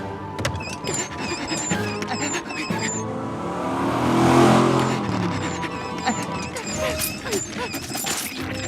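A cartoon car race, with an engine that revs and swells to a loud peak midway and then fades, among busy animated sound effects and background music.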